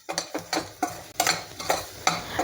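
Kasuri methi and chilli powder are stirred into a hot tempering for dhaba-style palak, with repeated scraping strokes of a spoon in the pan over a soft sizzle, about eight strokes in quick rhythm.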